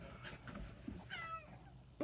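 A cat meows faintly indoors, with a couple of soft, short mews followed by a longer rising meow over a quiet room background.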